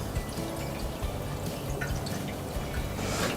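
Unleaded petrol is poured from a can into the fuel tank of an S40C lawn scarifier, making a steady, close trickle of liquid that splashes lightly throughout.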